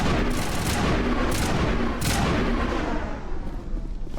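Gunshots in Mass Effect Legendary Edition, a loud, dense barrage of booming shots and blasts that rolls on nearly without a break, close and heavy, tapering slightly at the end.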